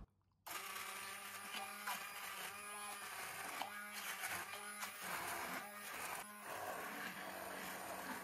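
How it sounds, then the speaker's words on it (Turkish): An electric blender purees green fava beans in a steady, loud, continuous whir after a quiet start, its motor tone wavering slightly as the contents churn. "Hem de buradan blenderda çekeceğim."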